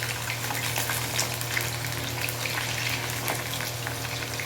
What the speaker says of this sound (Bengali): চলো মাছটা ভাজা হোক।